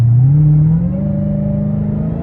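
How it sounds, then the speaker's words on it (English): A supercharged Mopar car accelerating uphill, its loud close whine rising in pitch as the engine pulls, then easing into a steadier climbing tone with no voices. "So you can really hear the supercharger."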